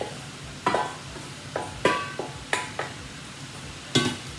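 Cabbage frying in a hot pan, a steady background sizzle broken by a series of clanking stirs and scrapes of a utensil against the pan, spaced irregularly, close and clear without talk.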